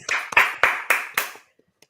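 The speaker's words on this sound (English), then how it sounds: "Golf clap." About five slow, evenly spaced hand claps from an audience in a soft golf-clap style, close and fairly loud, each sharp onset decaying quickly, then a few faint stray taps.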